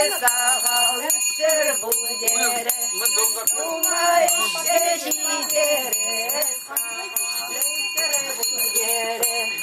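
A small hand bell rings steadily and continuously, many overlapping bright metallic chimes with a high sustained tone, at a traditional Chuvash village wedding.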